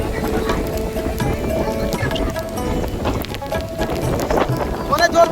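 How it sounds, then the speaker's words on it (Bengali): A violent storm strong enough to split trees: gusting wind buffets close to the microphone over a dense, continuous wash of heavy rain, loud and unbroken, with a voice faintly present underneath. "এই বৃষ্টিতে রেকর্ড করছি।"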